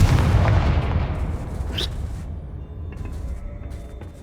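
Blast from the Confringo fire spell in the PS5 game Hogwarts Legacy, one loud booming burst that fades into a rumbling tail and then a quieter game soundscape.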